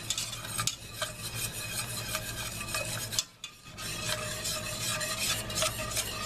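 A chili powder mixture is stirred in a pot, a close scraping, rubbing sound with light sizzling and a few utensil taps, briefly pausing midway before the stirring resumes.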